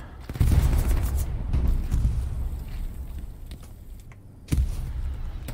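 Gunfire traded across a trench line in the WWII shooter Hell Let Loose, with dense rumbling bursts of shots and booms, a lull around the fourth second, then a sharp loud crack before the firing resumes.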